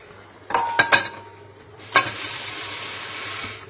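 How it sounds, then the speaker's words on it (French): Water is poured into a dish being cooked in a pot, with a couple of sharp splashes and clinks followed by a steady hiss and bubbling, close by. "Je vais encore ajouter un peu d'eau."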